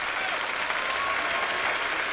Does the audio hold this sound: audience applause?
yes